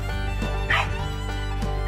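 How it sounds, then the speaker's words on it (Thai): A disabled dog gives a few short, close yips and barks at uneven intervals over a low steady background hum. "โอ้เห่าได้ด้วย นึกว่าเห่าไม่ได้เห่าได้"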